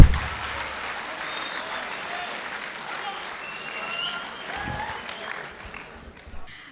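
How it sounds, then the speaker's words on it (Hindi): An audience at the Multan Mushaira 2024 poetry recital applauds, a warm, continuous patter of many hands that softens and tapers off toward the end. "भरपूर तालियों में इस्तकबाल कीजिए"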